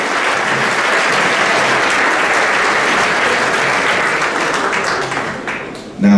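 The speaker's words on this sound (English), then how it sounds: "Another round of applause for the freshman coaches." Steady, dense clapping from a crowd at a high school football banquet honoring the freshman coaches, loud throughout before fading and cutting to a brief voice at the close.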